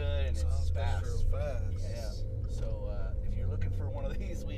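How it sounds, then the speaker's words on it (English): A 2018 Maserati Levante SUV drives along with a steady low engine and road rumble running throughout, close and constant beneath continuous talking from people inside the cabin. "we could probably all agree that this car drives nice"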